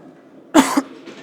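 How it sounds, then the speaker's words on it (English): A single sharp cough, close and fairly loud, breaks a quiet pause during muscle-up training, followed by a softer breath. "Starting to cough."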